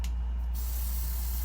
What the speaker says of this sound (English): 1-2 with my airbrush, just to kind of lightly add some color